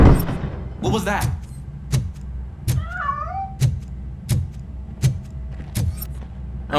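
A single cat meow rises and falls in RoboCop: Rogue City, brief and clear in the middle, set among steady, heavy, regularly spaced mechanical thuds.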